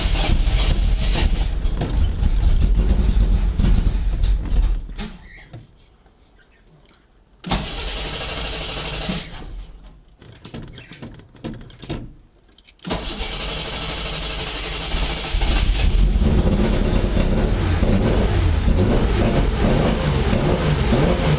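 A Datsun 260Z engine cranks and catches, then revs loudly in surges, dropping out twice for a few seconds before roaring back and holding a rough, steady run near the listener.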